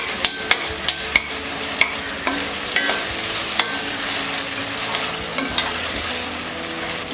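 Ginger garlic paste gets mixed into green chana curry in a pan, a loud continuous sizzle punctuated by a string of crisp spoon taps against the metal, irregularly spaced and close.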